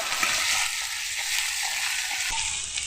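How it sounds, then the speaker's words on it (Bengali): Garlic and ginger paste frying with onion in hot oil for a black Kadaknath chicken curry, giving a loud, continuous sizzle close by with faint stirring. "এখানে দেব রসুন বাটা আর আদা বাটা এটাকেও ভালোভাবে কষে নেব"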